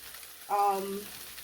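Cold rice is tipped into a hot pan with vegetables and eggs for shrimp fried rice, setting off a brief sizzling burst that settles into a quieter crackle, faint and close.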